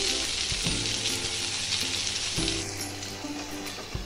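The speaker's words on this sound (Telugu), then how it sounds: "ముందు ఆయిల్లో ఉల్లిపాయ ముక్కలు ఫ్రై చేసేసి మూత పెట్టేస్తే త్వరగా మగ్గిపోతాయి" Onion pieces fry in oil with a steady dense sizzle, joined by a couple of scraping stirs and clicks of a utensil or lid against the pan, heard close and without talk.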